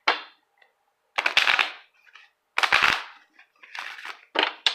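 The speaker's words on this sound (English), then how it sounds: "That was interesting how that shuffle worked out." Tarot cards being shuffled at close range in several separate bursts of quick riffling and flicking, each lasting about half a second to a second, with short silent pauses between them and no talking.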